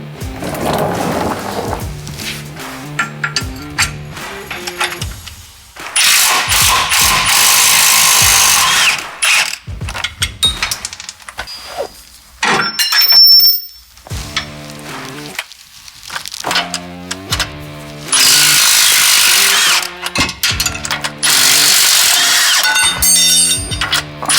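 Power tools and a ratchet take off the lower shock brackets and factory U-bolts on a 2016 Dodge Ram 3500. Loud bursts of whirring tool noise alternate with rapid ratcheting clicks and short pauses, close up, with no speech.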